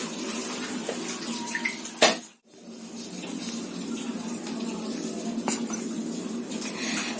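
Water poured with a dipper over the body during a ritual bath, a steady splashing stream broken by a sharp knock and a brief pause, then resuming.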